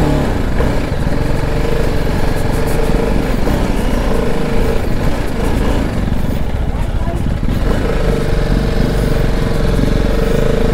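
A motorcycle engine revs and chugs loudly and continuously as the bike slips and slides on a muddy off-road track in foggy weather, with a voice speaking over the engine.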